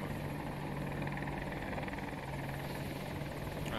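Helicopter in the video game Battlefield 2042, a steady, loud rotor-and-engine drone with a constant hum running unbroken throughout, no talk.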